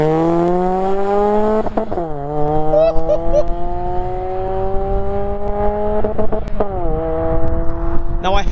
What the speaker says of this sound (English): Another MX5 cruises past.